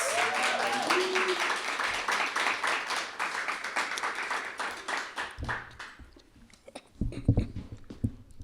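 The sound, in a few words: audience applause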